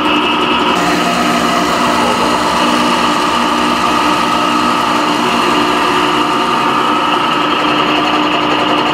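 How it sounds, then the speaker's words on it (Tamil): A coffee bean grinding machine in a coffee powder shop runs loud and continuous, a steady motor whine with a dense grinding rattle throughout, close and unbroken, with no speech. "இது வந்து கிரைண்டிங் மிஷினுங்க, பவுடர் ஆகுது"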